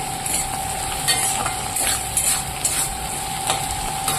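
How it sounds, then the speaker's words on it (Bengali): Potato and bitter gourd frying in a pan, a constant close sizzle with a faint steady tone beneath and soft rhythmic stirring scrapes recurring every second or so, with no talk. "এবার আলু উচ্ছেটা আমি ভেজে নেবো"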